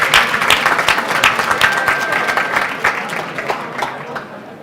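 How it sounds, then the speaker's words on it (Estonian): Sustained applause from an audience at a leadership conference, dense rapid clapping filling the room, loud and steady before tapering slightly toward the end, with no talking over it. "teeme neile aplausi selle eest"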